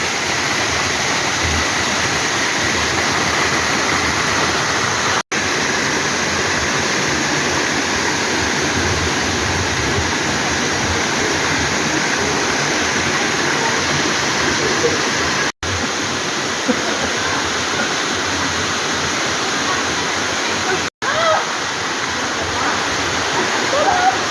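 Waterfall at Balite Falls in Amadeo, Cavite, a loud, steady rushing roar of falling water that fills the whole scene without pause, with faint voices barely present beneath it.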